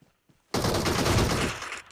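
A single loud AWM sniper rifle shot in the mobile game PUBG Mobile cracks out after near-silence, its heavy report ringing and decaying for over a second before fading.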